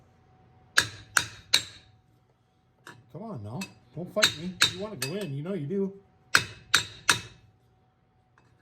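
Hammering on a part of a 1968 Pontiac Firebird during a restoration: three sharp metallic blows, a pause while someone talks, then three more clanging strikes, close and ringing.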